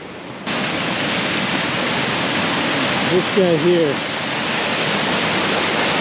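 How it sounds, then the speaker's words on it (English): A waterfall pours through a rocky cut, producing a dense, steady roar of rushing water that stays constant throughout, while someone speaks briefly over it partway through. "what we think must be the waterfall that was marked on the map"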